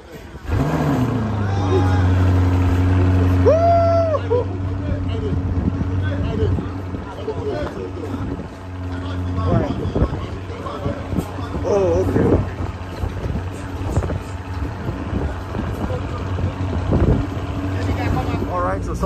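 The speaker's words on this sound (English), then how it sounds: "Look at those exhaust tips. All right, cold start." A Lamborghini Urus SUV starts from cold inside a shipping container, settling into a loud, steady, low engine drone with a brief rise near the start. The engine rumbles on throughout, with people talking over it.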